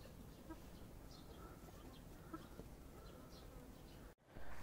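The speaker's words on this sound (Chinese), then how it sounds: "看见没有，现在蚊子上来" Mosquitoes and other insects buzz steadily around a farm yard with a chicken coop in the evening, a faint continuous whine with some chicken sounds in the background, ending in a sudden knock.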